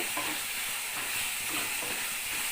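Ginger garlic paste frying in a pan for a mushroom curry hisses steadily up close, with a few soft stirring strokes under the continuous sizzle and no talking.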